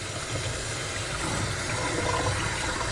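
Running water rinsing a spiral tie-dye t-shirt, a steady loud rushing splash under a tap, close and continuous with no speech.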